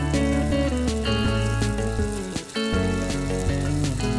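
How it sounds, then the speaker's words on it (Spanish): Flour-and-water dough tortas frying in a batch in hot oil in a pan, a steady, loud, dense sizzle and bubbling crackle that runs continuously with a brief dip midway, no talking. "Las vamos a freír por tandas y enseguida que las ponemos en el aceite las vamos a ir sumergiendo"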